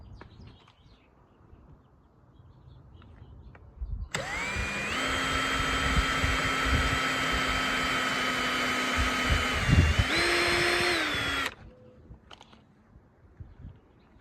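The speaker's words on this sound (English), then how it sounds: "And then I am going to do 5 screws in this back panel and 4 in the front" A power drill whines steadily for several seconds while driving screws into a boat's gunnel panel, its pitch shifting briefly near the end before it stops, with quiet workshop noise before and after.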